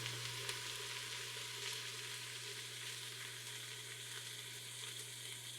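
Rice and onions toast in a pot, giving a constant soft sizzle and light crackle at an even level throughout, with no talking.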